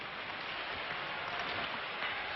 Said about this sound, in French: le public applaudit très fort